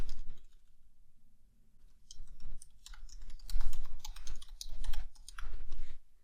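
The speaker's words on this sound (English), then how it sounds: "If we go up to the top and we click on login and we type in that email address" Computer keyboard typing an email address into a login form, with bursts of rapid clicky keystrokes in uneven runs, close and fairly loud after a quiet start.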